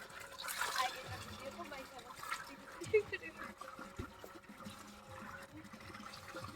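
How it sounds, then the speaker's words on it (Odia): Water gushes and splashes from a farm motor pump in uneven surges, with voices talking over the flow. "ଦେଖ ପାଣି ଆସିଲା ଦେଖନ୍ତୁ ପୁରା ଆସି ଚାଲିବ"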